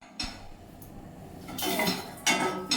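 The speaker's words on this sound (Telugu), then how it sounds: "నేను కలుపుతూ ఫ్రై చేసుకోవాలి." Tomato fries in a pan while being stirred, with bursts of utensil scraping and clinking against the metal pan over a quieter background between strokes.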